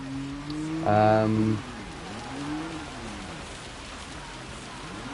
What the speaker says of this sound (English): Oh, this rain is too much.